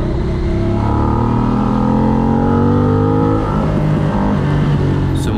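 A loud Moto Morini Milano 1200 motorcycle engine revs hard at full throttle, its pitch climbing steadily under acceleration before easing off, close and alone without voices.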